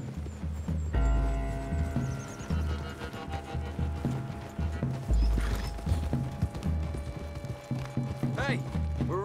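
Horses ridden through trees in the video game Red Dead Redemption 2: a steady, thudding clip-clop of hooves moving along throughout, fairly close, mixed with a low ambient backdrop.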